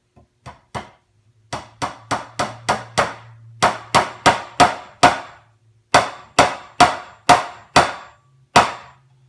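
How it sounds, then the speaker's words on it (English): Sharp metallic hammer taps ring out in quick clustered series as a fret marker is hammered into a banjo neck, about two dozen blows with short pauses between groups, close and clear. "We're just going to bang in that fret marker."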